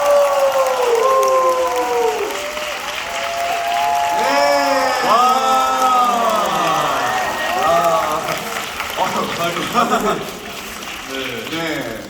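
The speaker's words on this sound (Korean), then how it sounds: "박수 부탁드립니다" An audience applauds with some cheering at a musical theatre curtain call, the clapping running underneath a prominent voice speaking and calling out throughout.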